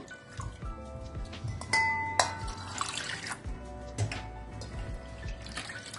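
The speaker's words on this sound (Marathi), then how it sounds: "अर्धा कप डाळ मी स्वच्छ धुवून घेते 2-3 पाण्याने." Half a cup of dal being rinsed clean in water, with close splashing and sloshing, a running-tap stream and occasional light clinks of the grains and bowl, steady throughout.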